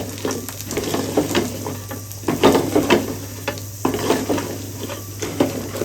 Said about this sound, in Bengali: আর এই মূলা ঝুটি খেতে তো খুবই ভালো লাগে একটু নেড়ে চেড়ে কষিয়ে নি